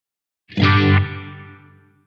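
A single distorted guitar note struck and left to ring through an Eventide H90 pedal, decaying smoothly over about a second and a half with a plain reverb tail without vibe effect.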